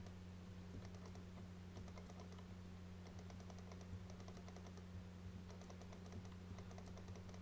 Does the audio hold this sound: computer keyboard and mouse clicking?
yes